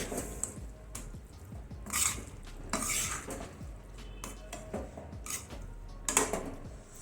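A spoon scraping and stirring coriander through tinda vegetable curry in a metal pot, with repeated clanks and scrapes, close and fairly loud, and no talking.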